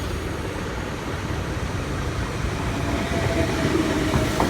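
A Sydney Blue Mountains train pulls into platform 3 at Penrith station, producing a continuous rumbling roar that grows slightly louder as it arrives, with no speech.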